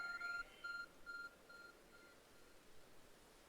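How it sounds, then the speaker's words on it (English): In Pokemon Legends: Arceus, a glowing object emits a short series of high electronic beeps. There are about four quiet, evenly spaced pulses that fade away, with no talking. "There's a glowing, beeping object over there."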